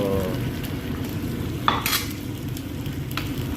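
An egg fries in a pan with sardines, a constant close sizzle with a brief scrape of stirring partway through, heard alone without voices.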